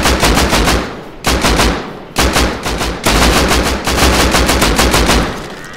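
Automatic gunfire in the survival video game Rust comes in loud rapid bursts, four or five sustained strings of shots separated by brief gaps, with no speech over them.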